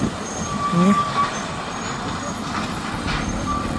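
Trucks and other vehicles speed across a new bridge, a steady broadband road rumble with a passing heavy vehicle swelling briefly near the start, at moderate distance without clear speech.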